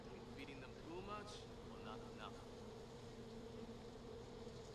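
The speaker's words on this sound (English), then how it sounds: "There are some bees." Bees in the video game Far Cry 4 make a steady, fairly faint buzzing drone beneath someone talking, with other game ambience in the background.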